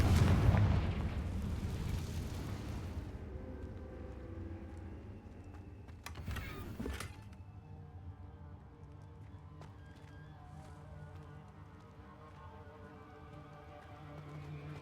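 A Confringo fire spell from Hogwarts Legacy erupts with a loud, rumbling burst at the start. A second sharp crackling blast follows, and low game ambience continues after it.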